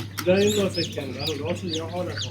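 Incubator-hatched chicks chirp and peep close by in a busy chorus, with a steady hum underneath and people talking over them.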